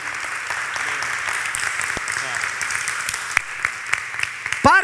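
Church congregation applauding during a sermon, a steady moderate wash of clapping that holds for several seconds, with a voice rising briefly near the end.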